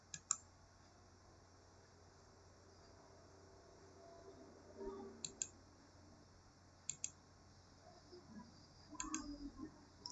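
A computer mouse clicks sharply and sparsely on a quiet desk while downloading a file from Google Drive, with a few single and double clicks spread across several seconds over faint background hum.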